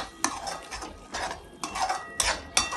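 A spoon stirs homemade cream into lobia masala, a black-eyed pea curry, in a pan over a lowered flame. It makes a few scraping clinks and soft swishes against the metal in uneven strokes, with a faint sizzle underneath.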